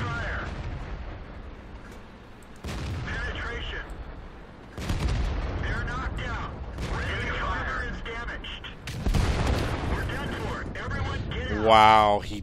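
Tank cannon fire and booming explosions in World of Tanks gameplay, several heavy blasts spread across the stretch, with a person talking throughout.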